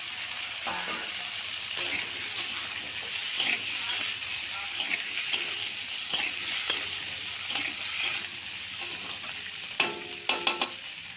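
Tomatoes and chopped green chilies sizzle and fry in a pan with red lentils, with steady crackling, frequent spoon stirring and scraping clinks, close and alone without talking.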